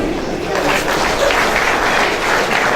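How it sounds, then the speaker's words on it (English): Applause from an audience at a university inaugural ceremony, a dense, steady wash of clapping that holds at an even, loud level throughout, with crowd murmur mixed in. "Let's give her a round of applause."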